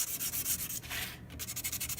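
Close, rhythmic light sanding: quick repeated strokes of abrasive paper rubbing back and forth across a part of a 1:24 Tamiya Ferrari LaFerrari plastic model kit.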